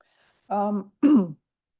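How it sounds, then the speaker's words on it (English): Two short throat-clearing bursts, close by, separated by a brief pause, with silence on either side. "Excuse me, I am coughing."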